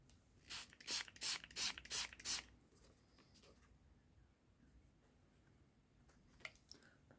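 Five quick hissing bursts from a spray bottle of water onto Brusho paint, then quiet with a faint rattle and one more short spritz near the end.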